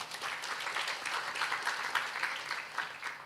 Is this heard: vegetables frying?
no